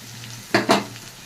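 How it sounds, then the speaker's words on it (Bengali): Spice paste of ground onion, tomato, chili, cumin and turmeric stir-fried in a pan, with a faint steady sizzle and two quick scraping stirs of the spoon close by. "মশলাটাকে ভালো করে কষিয়ে নিচ্ছি।"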